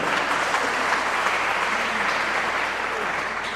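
Audience at a Hindi poetry gathering (kavi sammelan) in Najibabad, Bijnor, clapping in a sustained, even burst of applause throughout, with faint room murmur underneath.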